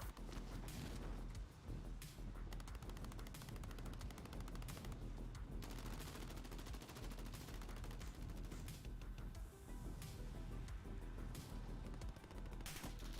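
Rapid gunfire aimed at the player in a video game: dense bursts of automatic shots and overlapping reports, loud and continuous over roughly thirteen seconds with brief gaps.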